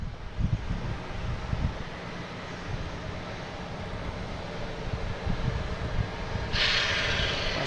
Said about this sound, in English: Next taking off, we have American Airlines heading to Columbus.